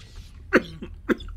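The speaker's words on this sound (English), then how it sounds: "What a great time for a cough." Two sharp, close coughs about half a second apart stand out over a quiet background, with no talking.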